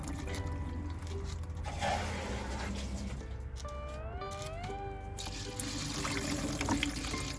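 Coriander seeds rinsed in plain water, a steady close splashing and trickling with a pouring stream throughout and a brief whistling tone in the middle.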